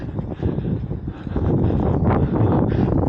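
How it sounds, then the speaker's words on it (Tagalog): Strong outdoor wind buffets an unshielded microphone, a dense low rumble that swells and grows steadier partway through, with no talking. "Lakas ng hangin."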